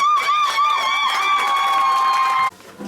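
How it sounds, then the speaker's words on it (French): Guests at a customary wedding cheer loudly with sustained, wavering high-pitched calls over scattered claps and crowd noise, then the sound cuts off sharply near the end. "Ah, une acclamation, hein?"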